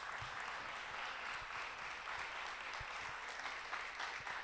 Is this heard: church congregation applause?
yes